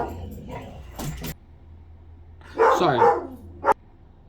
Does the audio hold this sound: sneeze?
no